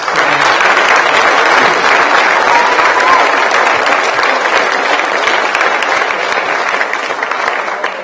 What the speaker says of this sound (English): One final round of applause to all of our recipients today.